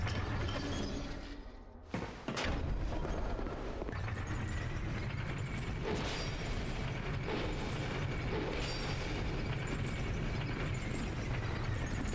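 An elevator in the video game Dark Souls 2 runs with a steady, loud mechanical grinding and ratcheting clatter. It briefly dips near the start, then continues unbroken to the end.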